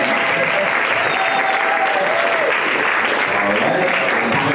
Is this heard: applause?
yes